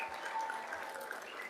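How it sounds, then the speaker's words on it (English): An audience at a ceremony honoring a high school girls' flag football team gives a soft, steady round of applause, heard as a faint, even hiss of distant clapping. "Give them a round of applause."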